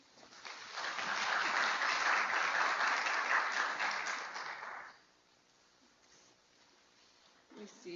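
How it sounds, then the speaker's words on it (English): Audience round of applause welcoming speakers at a talk on physical activity; dense clapping swells and holds for about four seconds, then fades into quiet room tone with a faint stir at the end. "please give them a round of applause"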